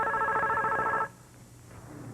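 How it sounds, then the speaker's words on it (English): A telephone rings with a loud electronic warble for about a second, then stops, leaving a quiet room tone. "I'll answer my wife's phone"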